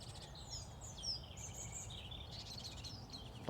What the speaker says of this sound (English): there is quite a bit of activity around here. There's a lot of bird noise.